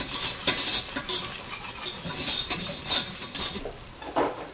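Flour stirred into a sauce in a pan over low heat makes repeated soft scraping swishes with faint sizzling, the strokes coming in an uneven rhythm close by.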